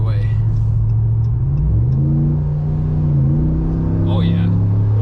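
A 2020 Ram Rebel pickup fitted with a K&N cold air intake revs up and back down, its deep engine note rising and falling loudly up close, with a voice talking over it.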